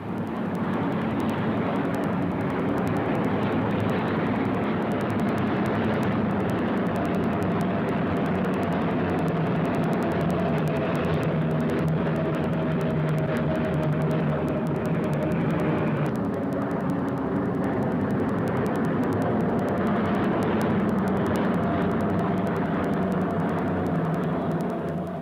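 Avro Lancaster bomber flying on a test flight, its steady multi-engine drone loud and continuous throughout, with a brief shift in tone partway through and no voices.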